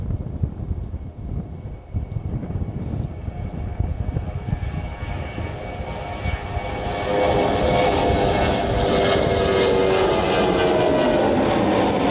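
A fixed-wing airliner descends toward East Midlands Airport in the evening, its engine roar swelling steadily from a distant rumble to a loud, whining pass overhead, with wind buffeting the microphone.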